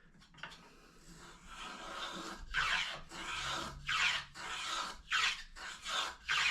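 Jorgensen #102 hand plane chamfering a board edge, a series of soft rasping strokes of about half a second each, repeating in a loose rhythm and taking off long stringy shavings, close and fairly quiet.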